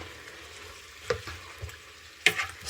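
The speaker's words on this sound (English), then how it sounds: "So that's sizzling away quite nicely. We're browning off the chicken, we're browning off the chorizo." Chicken and chorizo sizzle softly in a pan while browning for a paella, a low crackling hiss broken by a few sharper pops and stirring clatters.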